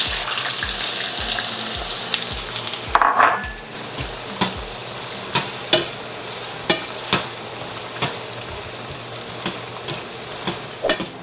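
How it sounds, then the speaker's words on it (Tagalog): Sliced carrots frying in a pan for picadillo, a steady close sizzle with a run of sharp, regular utensil taps against the pan, no talking. "Ang una kong ginagawa, piniprito ko muna tong carrots."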